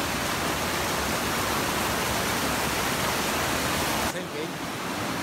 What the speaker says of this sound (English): Yukari Creek, but very fast flowing creek, more like a river.